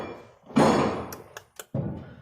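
Heavy thuds and bangs come from the back of a GMC 3500 Savana van being unloaded, with a long rumbling bang, a few sharp knocks and another dull thump.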